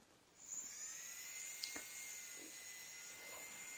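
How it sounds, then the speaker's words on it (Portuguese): An electric nail drill whines steadily at a high pitch while filing a fiberglass nail extension, faint and close, with small variations in tone as the bit works the surface and no talk. "Vamos continuar com a mesma broca e depois remover o degrau por dentro."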